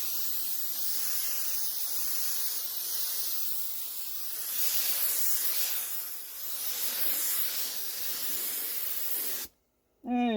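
A spray gun lays a final coat of paint onto a car wing in a home setting, giving a steady close hiss that swells and dips slightly for about nine seconds before cutting off, followed by a brief high squeak.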